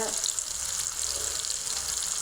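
Fish sizzles and fries in hot oil in a frying pan with chopped ginger and garlic, a steady, close crackling hiss running continuously with no pauses.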